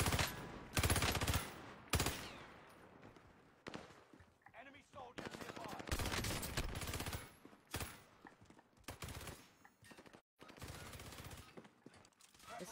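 Rapid bursts of video game gunfire, machine-gun style fusillades, fill the mix loud and close, separated by short pauses over roughly a dozen seconds, with voices talking over parts of it.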